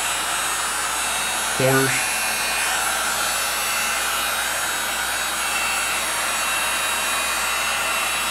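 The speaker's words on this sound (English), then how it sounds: "let's go with a heat gun" Heat gun blowing steadily on an acrylic flip-cup paint pour, a loud continuous airy roar throughout, with a brief spoken word early on.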